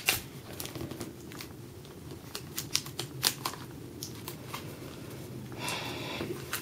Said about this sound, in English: now you're going to want to tape them